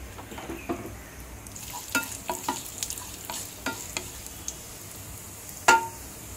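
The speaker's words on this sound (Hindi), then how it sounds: "अब इसमें डालते हैं थोड़ी सी दाल और इसको हम थोड़ा भून लेते हैं अच्छे से" Dal roasting in a pan with mustard seeds, stirred with a spoon: light sizzling under a steady series of small clicks and scrapes, ending in one louder knock against the pan, with no talk.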